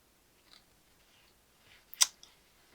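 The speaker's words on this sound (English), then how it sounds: "I'm going to cut the thread off the needle" Small scissors snip thread off a needle while sewing a miniature pillow, a faint quiet handling rustle leading to one crisp sharp snip, then a soft click.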